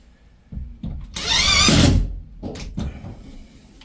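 A power screwdriver drives a screw through drywall into timber: a short whirring burst rising to a strained, higher-pitched run lasting about a second, framed by a few knocks and handling sounds.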